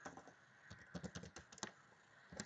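Quick, irregular key clicks from a computer keyboard, close and fairly quiet, arriving in short bursts with brief pauses while a quiz question is typed.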